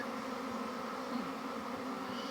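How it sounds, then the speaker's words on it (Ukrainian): Honeybees stir around a hive entrance during swarm work in a forest, giving a faint, steady buzzing hum that stays even throughout with no voices. "Видно, як пчоли помалесеньку вже почали рухатись."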